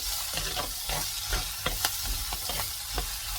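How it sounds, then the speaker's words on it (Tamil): Onions browning in a hot, dry pot for mushroom gravy, with a steady sizzle of frying underneath and a spoon scraping and stirring in repeated close strokes. "இப்போ இந்த வெங்காயம் ஒரு ப்ரௌனிஷாக ஆகட்டும், அது வரைக்கும் வெயிட் பண்ணுங்கள்."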